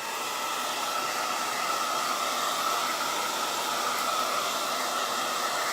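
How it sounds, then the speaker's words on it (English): A blow dryer runs continuously while drying thick paint on a summery decor piece, giving a steady, loud airy whir close to the mic with no talking. "So I'm going to give it a quick dry with my blow dryer"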